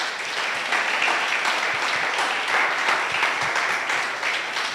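A church congregation applauds during a Spanish-language sermon, with dense, steady clapping from many hands that fills the room evenly and continuously without a break.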